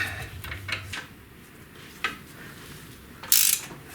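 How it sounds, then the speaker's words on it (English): A ratchet clicks as caliper bolts are tightened on a BMW R1200GS motorcycle, with a few short metallic ticks and a sharper clink near the end, close and without talk. "Now we can tighten these two caliper bolts"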